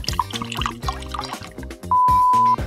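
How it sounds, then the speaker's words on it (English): Tonic water poured into a milkshake glass, a close, bright splashing trickle with a few drips, followed by a steady electronic beep near the end. "Next, we're gonna do 3 ounces of tonic water."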